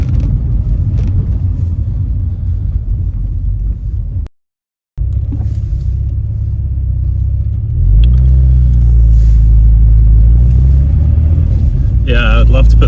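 A blue 1990s-style Volkswagen Golf GTI 16v MK2 drives along a road, its engine a steady loud rumble from inside the cabin, briefly cut out, then rising again as the car pulls away after slowing for a junction.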